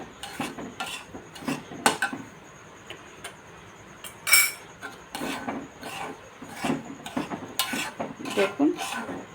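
Semolina stirred in a pan for sitabhog, giving irregular scraping and clinking taps of a spoon against metal, some sharp and close, with quieter gaps of faint rustling between them.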